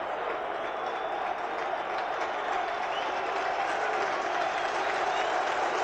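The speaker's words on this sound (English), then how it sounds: "Well, I don't know what the applause is for." Distant football stadium crowd applause during a 1995/96 Wolverhampton Wanderers match against Millwall in the rain, a steady crowd roar of clapping under a faint commentator's voice.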